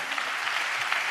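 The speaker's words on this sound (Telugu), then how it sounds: "చప్పట్లు కొడుతూ దేవునికి స్తోత్రాలు చెప్దాం." A church congregation claps in praise, a steady dense patter of many hands filling the short moment with no voices over it.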